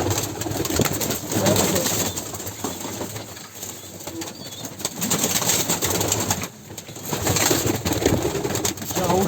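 Pigeons coo steadily in a loft of long-winged tumbler pigeons, with wing flaps and shuffling throughout, close and fairly loud.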